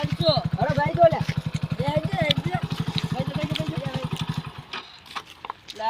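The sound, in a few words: motorcycle engine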